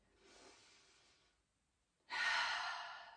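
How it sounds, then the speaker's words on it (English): Slow, deep breaths during a pregnancy yoga session, a soft inhale followed by a pause and then a louder, breathy exhale close to the microphone. "I'm going to take two more breaths, big breath in,"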